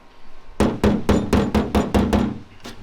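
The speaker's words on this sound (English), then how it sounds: "What I'm going to do is I'll put the stud puller on it." A stud puller slide hammer pulls a dent from a car body panel, giving about nine sharp, evenly spaced metallic knocks, loud and close with no talking.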